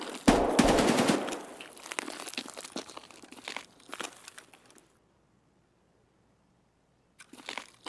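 An SKS rifle fires in the shooter Escape From Tarkov: a fast run of loud, close cracking shots, then scattered lighter clicks and rattles tapering off, a stretch of silence, and a short burst of noise at the end.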